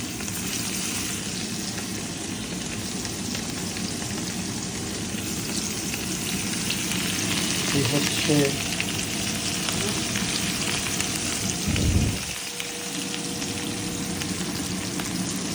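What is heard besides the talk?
mrigal fish frying in oil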